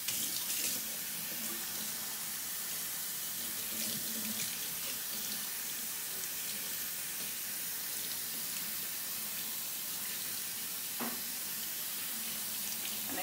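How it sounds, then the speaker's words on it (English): Running tap water pours steadily over a wig being rinsed with downward strokes under a faucet, a continuous close splashing hiss with no voices. "I am rinsing the wig in a downward motion."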